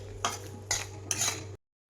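A spoon scrapes through jamun paste with sugar in a kadhai in three distinct strokes, close and fairly quiet, before falling silent.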